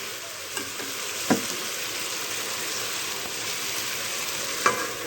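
Pumpkin stems frying in a pan give off a steady, even sizzle, with two brief spatula scrapes as they are stirred, close and alone.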